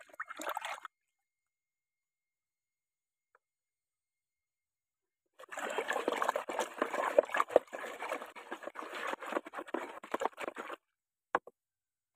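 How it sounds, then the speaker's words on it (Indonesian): Liquid pesticide mixture poured into a 200-litre water drum on a chili farm, a brief pour at the start, then a long steady splashing trickle of several seconds ending abruptly, with faint clicks after. "Lalu kita masukkan ke drum. Ini kurang lebih 200 liter air."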